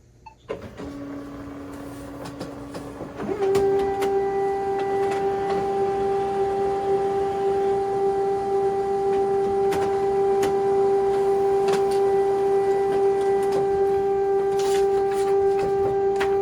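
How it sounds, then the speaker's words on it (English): An HP Color LaserJet Pro MFP M283 scans a page on its glass: a click and brief whir, then a steady motorized hum with a sustained tonal whine as the scan head travels, loud and close, with no speech. "The scanner completed the task in 12 seconds"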